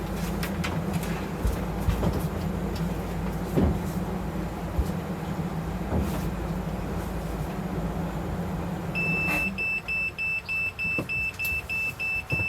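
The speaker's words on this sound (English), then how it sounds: "so as you can hear, an alarm sounds." A steady boat engine rumble gives way to a repeating electronic beeping man-overboard alarm, pulsing regularly near the end.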